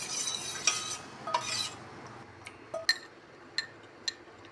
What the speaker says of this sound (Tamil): அப்புறம் நாட்டு சர்க்கரையும் கரைச்சி ஃபில்ட்ரு பண்ணிக்கோங்க.